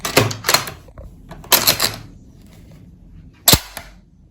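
A Remington 11-87 shotgun's action gives sharp metallic clacks and clicks during a function check, three distinct bursts spaced over a few seconds, close up with no speech.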